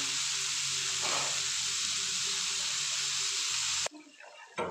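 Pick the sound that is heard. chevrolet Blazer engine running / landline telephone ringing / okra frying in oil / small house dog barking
okra frying in oil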